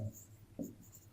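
A pen scratches across paper while math notes for a set theory lesson are written, two short strokes about half a second apart, soft and close, with no talk.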